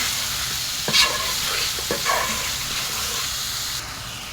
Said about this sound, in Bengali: পেঁয়াজ রসুন আদা বাটা সব দিয়ে দিচ্ছি আস্ত চারটা রসুন দিয়ে দিচ্ছি ভালো করে কষানো হয়ে যাবে